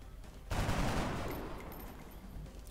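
A burst of gunfire in the turn-based game XCOM Enemy Within, one loud volley that opens suddenly and then decays over about two seconds, fairly quiet overall.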